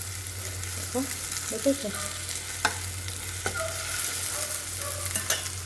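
Ingredients fry in a pan of oil for a fish curry meal with a steady close sizzle. Occasional utensil clinks and scrapes sound over it, and a voice speaks briefly.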